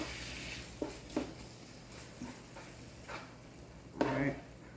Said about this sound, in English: So we're gonna go ahead and stir this rice.